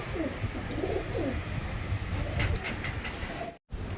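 Soft pigeon coos murmur in a low, steady stream against a busy outdoor background, with faint rumbling noise throughout and a brief dropout near the end.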